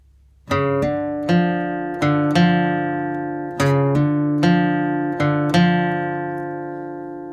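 Acoustic guitar picks out a short melody phrase in flatpicking style, opening with a pickup note. About eight clear plucked notes ring out in an even rhythm, close and alone with no talking.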